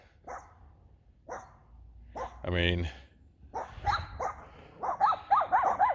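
A few separate dog barks and a short yip nearby, interspersed with a person talking and a whimpering whine near the end.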